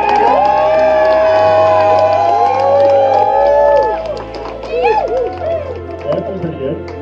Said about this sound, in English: By round of applause for who you think the best or worst swimmer was, for Andrew.